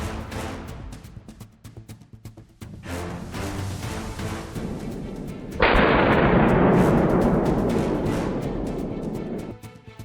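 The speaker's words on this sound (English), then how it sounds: "another boar went down under the fierce assault of the hounds and a well-placed bullet from one of our rifles." Rifle shots and loud bursts ring out during a wild boar hunt with hounds, one heavy blast near the middle followed by a long roaring wash of noise, with more cracks scattered through the rest.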